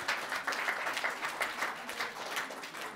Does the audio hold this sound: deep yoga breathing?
no